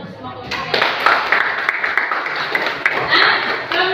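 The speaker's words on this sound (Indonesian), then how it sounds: "Kita tepuk tangan untuk semua kelompok." A classroom of students gives a round of clapping for all the groups that presented, with the claps mixing with voices talking throughout.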